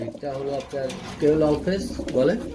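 Pigeons at a market pigeon sale coo in soft, repeated throaty phrases, fairly close and moderately loud, mixed with nearby human voices.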